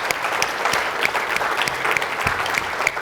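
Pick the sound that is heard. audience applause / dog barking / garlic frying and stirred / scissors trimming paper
audience applause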